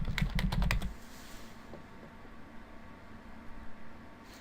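Computer keyboard typing in a quick burst of about half a dozen close keystrokes, followed by quiet room tone with a few faint clicks.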